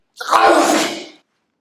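One loud, breathy sneeze close by, a sharp burst of air lasting about a second, with nothing else around it.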